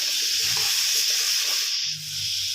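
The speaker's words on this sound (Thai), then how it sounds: "พอดีผมมีหมูสามชั้นเหลืออยู่นิดนึง ก็เลยเอามาผัดนะครับ" Pork belly stir-frying in a pan, a constant bright sizzle and hiss that stays loud and close throughout, with faint clatter of stirring underneath.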